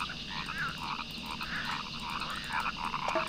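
Frogs croak steadily in the 1998 rainforest exploration computer game Amazon Trail 3rd Edition, a dense chorus of repeated croaks over a constant jungle ambience with no voices.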